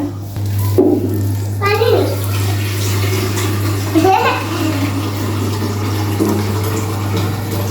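Water gushes from a tap into a container for watering plants, a steady close splashing stream with a low hum beneath it and someone talking over it.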